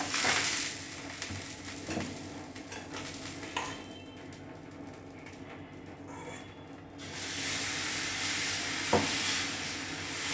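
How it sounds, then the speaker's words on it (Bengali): Brinjal chakli fries in hot mustard oil while a ladle stirs it, giving a continuous close sizzle with occasional scrapes against the pan, swelling loud at the start and again toward the end. "এই দেখুন এইরমভাবে হাতাটাকে নাড়াবেন আপনারা"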